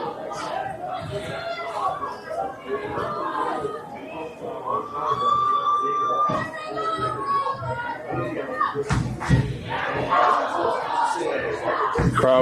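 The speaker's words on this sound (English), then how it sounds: "Crowd chants begin" At a varsity high school football game between the Westerly Bulldogs and Burrillville Broncos, a crowd of voices chants and shouts in a rising, rhythmic din, close and lively, mixed with scattered yells.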